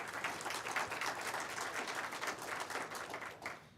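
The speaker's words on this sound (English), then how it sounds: "Will you please give them a round of applause?" An audience at a college media announcement claps steadily for nearly four seconds, a dense, even wash of many hands that tapers off slightly at the end.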